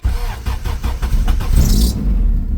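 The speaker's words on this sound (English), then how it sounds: "I do have to press the clutch to start it" A manual-swapped car engine cranks with several rhythmic starter pulses, then catches and settles into a loud, close idle.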